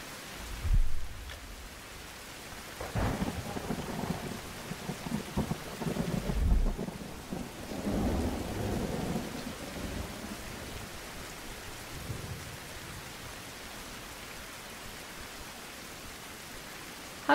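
Steady rain and deep rumbling thunder from a survival video game set in a jungle, with a loud thunder crash near the start and another around six seconds, then a continuous rain wash with no talking.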